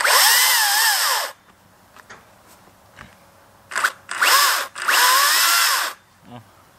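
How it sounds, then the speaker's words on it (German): A Makita DUC353 cordless battery chainsaw cutting through felled tree wood in a yard, several loud whining bursts of the motor revving and biting into the log, separated by short quiet pauses with faint knocks. "sägen wir die andere Seite ab, weil die ist gestückelt."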